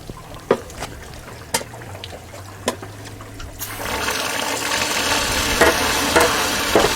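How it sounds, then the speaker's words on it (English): Water gushes out of a home water heater's drain, forced by an air hose during a vinegar flush; scattered clicks give way to a steady, loud rushing splash that continues for several seconds. "When I turn the air hose on, it really comes out of the drain there."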